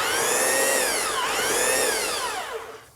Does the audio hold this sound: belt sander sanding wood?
yes